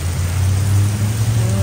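Heavy rain in Northern California, a steady loud broadband wash with a low rumbling hum beneath it, continuous and close throughout.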